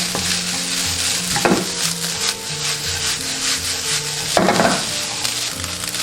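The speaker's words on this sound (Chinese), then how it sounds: "再次炒香，闻到香味过后下入米饭，一定要把它给划开。" A wok of rice being stir-fried with scallions, ginger and dried goods for Minnan mustard-greens fried rice, with steady scraping and stirring strokes over a continuous sizzle, close and fairly loud.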